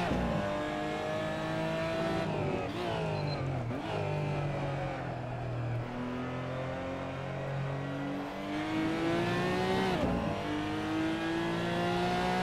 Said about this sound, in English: We are driving the Porsche GT4 race car.